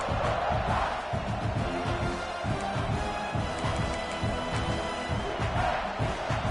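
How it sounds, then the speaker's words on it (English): A college football stadium crowd roars in a sustained, loud wall of noise, with rhythmic thumping and shouting layered through it. "This crowd trying to make life miserable for this offense."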